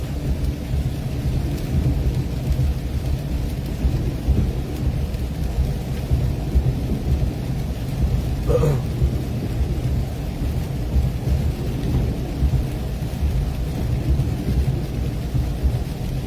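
Steady rain from a passing thunderstorm over Glendive, Montana, with a constant dense wash of broadband noise and low rumble throughout and one brief sharper crack near the middle, no voices.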